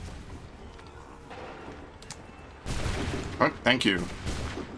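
Musket volley from Assassin's Creed 3 Remastered, a broad loud burst of massed fire with a few sharp cracks after a quieter stretch, with a voice speaking briefly.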